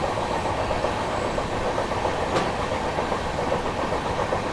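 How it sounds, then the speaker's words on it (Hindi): Bihar Sampark Kranti train approaching a station: a continuous heavy rumble with rail clatter, steady and fairly loud, no talking. "इसके पीछे आ रही है बिहार संपर्क क्रांति।"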